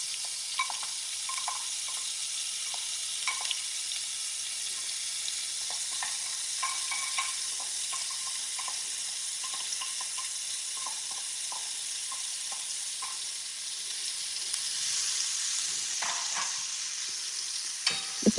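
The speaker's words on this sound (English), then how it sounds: "Now I'm going to grab our onions and then I'll start frying them," Steady, continuous sizzling of onions frying in a pan, with occasional light stirring clicks and scrapes, no speech.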